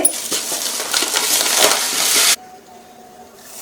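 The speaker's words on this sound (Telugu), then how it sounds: "2 కప్పులు పంచదార వేసుకుంటున్నాను." Two cups of dry sugar pour in a continuous gritty rush into a pan for about two seconds, then stop abruptly, leaving a quiet background.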